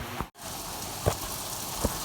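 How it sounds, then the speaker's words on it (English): Rain patters down steadily outdoors, a soft continuous wash with a few slightly louder drips and taps standing out, close and fairly faint, no talking. "Look, see it pitter pattering down there."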